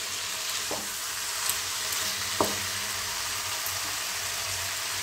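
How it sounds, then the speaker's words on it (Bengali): Fried spice masala for a broccoli curry as water is added: a loud, continuous close-up sizzle with a couple of brief utensil knocks. "এবার আমি জলটা দিয়ে দিচ্ছি"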